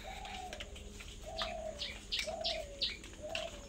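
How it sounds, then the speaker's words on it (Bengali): Doves coo repeatedly in the early morning on a rainy day, each soft call recurring at a steady rhythm with faint chirps between them, fairly close and otherwise quiet. "আর সকাল সকাল পাখি ডাকছে,"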